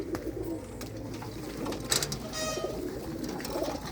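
Pigeons coo softly in a breeder's loft, with low, murmuring calls that continue under faint background noise and include a few light mechanical clicks.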